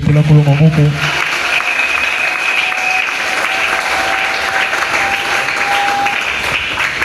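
A congregation at a church service claps and cheers loudly in praise, dense sustained applause with a voice singing or shouting briefly at the start.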